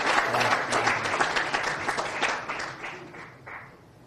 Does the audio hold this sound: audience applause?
yes